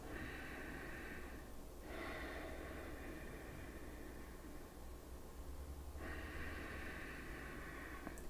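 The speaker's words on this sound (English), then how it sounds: "Begin to take nice deep inhalations through the nose. Exhaling through the nose." Deep nasal breathing during a yoga session, with steady, loud airy rushes of inhalation and exhalation lasting several seconds each and no talk.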